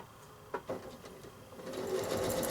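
A sewing machine stitching a nine-patch quilt block, starting with a few faint clicks and whirs and then building into a steady, quick mechanical hum as it speeds up, fairly quiet and close.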